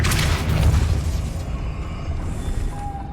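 A Depulso spell is cast in the Hogwarts Legacy video game, with a sharp booming burst at the start that decays into a lingering, fading rumble.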